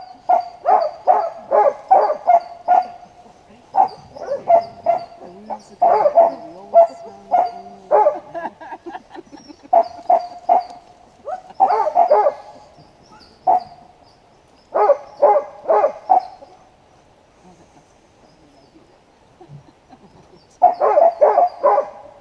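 Sled dogs from an Iditarod-style dog team in Juneau bark and yip in rapid bursts, close and loud, with short pauses between volleys and occasional whines.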